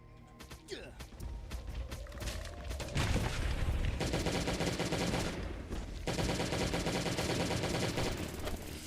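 Weapon fire in the Last Day on Earth: Survival mobile game, a grenade launcher among the guns: a rapid crackling volley builds from about three seconds and keeps going loud and dense almost to the end, with a brief dip near six seconds.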